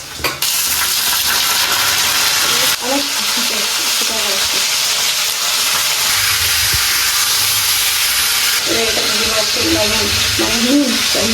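Loud, steady hissing and sizzling of chicken frying in hot oil with bay leaves fills the clip, with occasional clinks and a person talking underneath.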